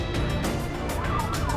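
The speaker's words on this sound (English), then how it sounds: "Turn off your siren." A police car siren wails in fast repeating sweeps over engine and road noise, a close, loud, pulsing cycle during a freeway pursuit.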